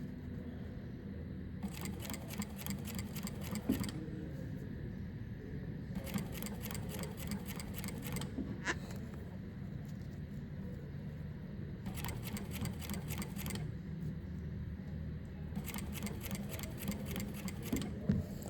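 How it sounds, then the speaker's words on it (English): A sewing machine stitching bias tape binding, running in several bursts of rapid, even needle clatter, close and clear, separated by quieter pauses. "I'm stitching at around 5 millimeters."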